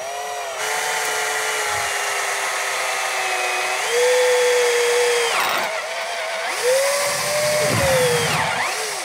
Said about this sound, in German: dann bohren wir da eben auch ein Loch rein.